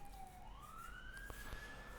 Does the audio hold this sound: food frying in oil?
no